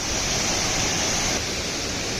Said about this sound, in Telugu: ఒకసారి చూద్దాం వాటర్ ఫాల్ని